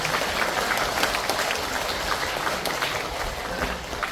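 Audience applause at a lecture held in a district office hall, a dense, steady clapping of a crowd throughout, close and loud, with no talking over it.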